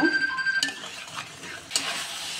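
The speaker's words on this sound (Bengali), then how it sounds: "আর চিকেনগুলোকেও খুব সুন্দর করে এর সাথে কষিয়ে নেব" Chicken with young jackfruit and potato stir-frying in a pan, a soft sizzle under a few scraping stirs and light clinks of a utensil against the metal.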